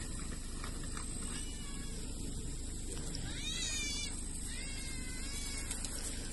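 Cat meowing in a few drawn-out, wavering cries at moderate distance over a steady background hum, outdoors near a wall.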